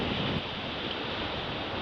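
Ocean waves break in the surf zone during a kayak surfing session, a steady broadband wash of churning whitewater with a faint rush of wind, fairly distant and with no voices.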